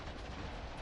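Gunfire in the video game Iron Harvest 1920 forms a dense, continuous roar of rapid shots and battle noise, loud and unbroken for under a second.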